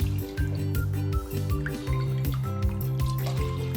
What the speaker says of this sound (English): I'm going to add in the water and then pressure cook both of them